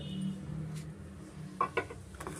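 Mashed potato and bread are mixed in a bowl, with quiet, close clinks and taps of a utensil against the bowl, two sharper knocks standing out.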